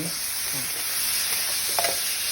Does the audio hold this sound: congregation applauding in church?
no